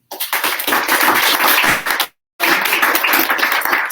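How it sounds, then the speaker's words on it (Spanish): A workshop audience gives loud, dense applause, close and continuous, with a brief pause before clapping resumes. "Lo recibimos con un fuerte aplauso."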